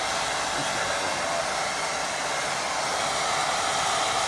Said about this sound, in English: I'll give that a dry now. Low heat again so I don't push my paint down everywhere.